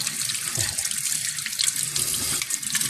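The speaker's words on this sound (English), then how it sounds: "I used to rinse them up under some warm water" Quartz crystal rocks rinsed under a running tap, a loud, close, steady rush of water splashing over stone that continues throughout without any voices.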